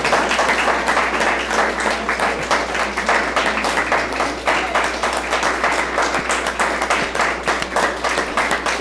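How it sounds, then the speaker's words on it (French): An audience applauds steadily throughout, many hands clapping in a dense, even wash at moderate distance with no speech on top. "Là, on va reprendre les applaudissements."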